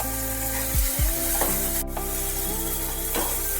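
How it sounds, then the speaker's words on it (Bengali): Okra frying in a pan with salt and turmeric, stirred with a utensil: a constant close sizzle, with a few scraping strokes and a sharp clack near the middle. "লবণের পর দিয়ে দিচ্ছি পরিমাণ মতো হলুদ। ভালো করে একটু নাড়াচাড়া করতে হবে।"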